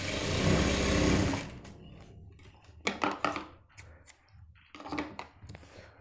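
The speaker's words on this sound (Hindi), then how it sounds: "इसको भी हल्का सा क्रॉस करते हुए इस तरीके से सिलाई लेनी है" A sewing machine stitches the back pocket of men's trousers, whirring in one loud burst up close, then fabric handling and short mechanical clicks follow.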